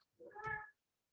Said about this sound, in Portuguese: meu gato tá fazendo bagunça aqui